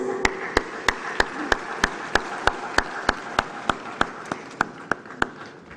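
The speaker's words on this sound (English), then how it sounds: "Please, a round of applause." An audience at the Afreximbank Annual Meetings claps in steady unison, sharp evenly spaced claps about three per second over a constant crowd hiss, with no voices on top.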